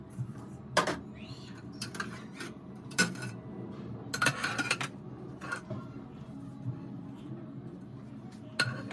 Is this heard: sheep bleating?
no